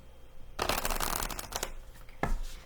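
A deck of tarot cards is shuffled close up in a long riffling burst, then a pause and a second shorter riffle, loud and alone.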